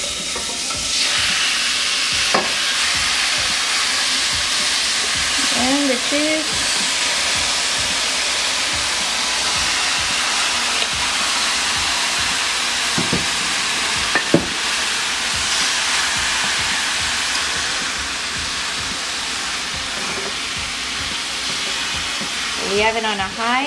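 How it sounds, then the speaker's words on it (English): Bulgogi beef sizzles loudly and steadily in a hot pan over medium-high heat, a dense continuous frying hiss with occasional stirring clatter and someone speaking briefly over it. "Listen to the sizzle."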